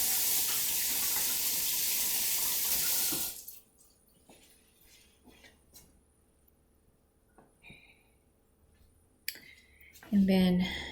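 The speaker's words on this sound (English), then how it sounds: "Let me wash my hands." Tap water runs steadily in a kitchen sink while hands are washed, a loud continuous splash for about three seconds that then cuts off, leaving quiet kitchen clatter.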